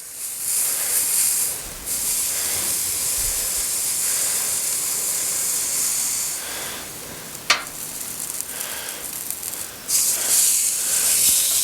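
Steak sears on a hot Blackstone flat-top griddle, giving a continuous loud hiss and sizzle that dips briefly with a sharp clink midway, then surges again near the end, with no talking.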